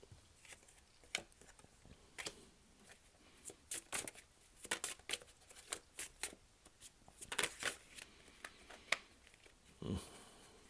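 Tarot cards being shuffled for a reading, a steady run of soft riffling slaps and flicks with irregular bursts, fairly close and quiet, no voice over them.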